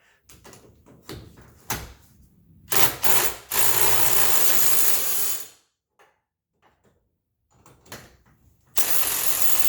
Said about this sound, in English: basically one bolt here that you got to undo, and then you got to undo the other two to the arm